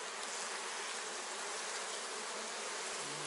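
Bees at work in an apiary hive make a continuous, even buzzing hum, close and unbroken, with no voices over it.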